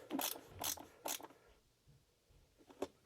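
Screws being tightened by hand into a Marshall Origin 50 amp's speaker, giving several close, quiet ratcheting clicks in a short burst, a pause, then one more click.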